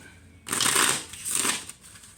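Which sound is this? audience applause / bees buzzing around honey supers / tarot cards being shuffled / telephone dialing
tarot cards being shuffled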